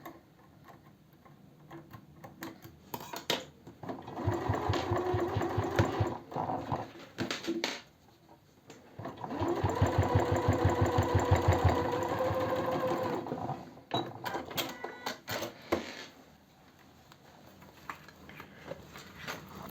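A sewing machine stitches a faux leather cosmetic bag, running in two steady bursts of several seconds each with quieter pauses of handling between them.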